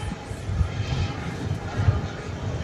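FedEx MD-11 airliner at DFW Airport at night, a steady distant jet engine roar holding low and even throughout, with faint background chatter.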